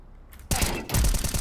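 Desert Eagle pistol fire in Counter-Strike 2: a quick string of loud, punchy gunshots with a short gap between bursts, close and dominant over faint background game noise.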